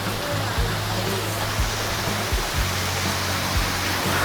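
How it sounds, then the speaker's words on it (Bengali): A small waterfall at the Rongo river camp near Kalimpong gives a steady, even rush of falling water, with a faint low mechanical hum running beneath it. "এই যে এখানে একটা ছোট্ট ঝর্ণা আছে"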